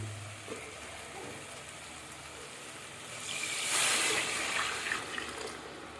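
Water splashes and pours into rice for dal rice in a short, fairly quiet burst after a few seconds of low background noise.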